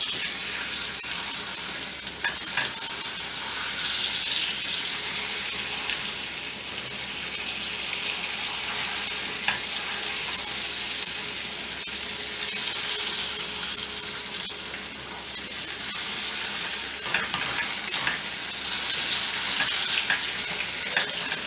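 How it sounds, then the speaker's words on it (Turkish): A tablespoon of butter stirred into freshly melted sugar for caramel sauce gives off a steady, loud, bright hiss of bubbling that lasts the whole stretch, with faint stirring underneath and no voices. "Şöyle bir yemek kaşığı tereyağımızı içine atıyoruz ve karıştırıyoruz."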